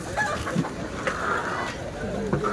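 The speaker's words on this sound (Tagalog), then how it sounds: "Ay, manok nakawala." A chicken clucks in short bursts amid a busy, noisy outdoor scene, with people talking nearby.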